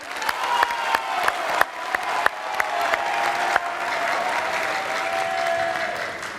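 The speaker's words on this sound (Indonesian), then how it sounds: "Boleh tepuk tangan yang meriah?" An audience at a presidential debate applauds the candidates, starting with a few sharp individual claps and swelling into steady, full clapping with faint crowd noise behind it.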